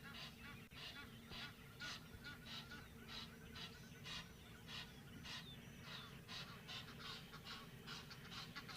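Egyptian geese honk loudly and continuously on a safari morning, a dense run of repeated harsh calls from several birds over a low background rumble, with no talk.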